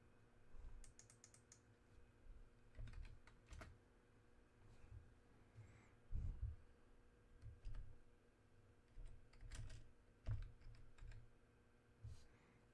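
Quiet bursts of typing on a computer keyboard, irregular clusters of soft key clicks with short pauses between them, faint and close in a quiet room.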